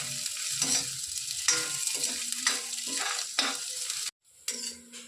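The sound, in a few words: green chili, ginger and garlic frying in a pan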